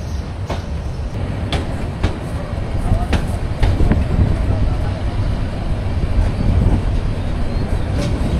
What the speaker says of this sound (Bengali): এই মেহের স্টেশন থেকে আমাদের ট্রেন ছেড়ে দিল